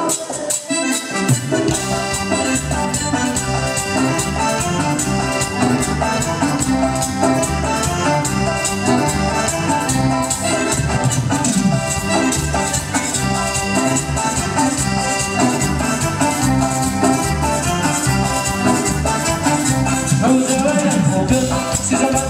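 Loud, dense tropical band music plays continuously with steady rhythm and layered instruments, a lively ensemble performing live in San Mateo Cajonos, Oaxaca.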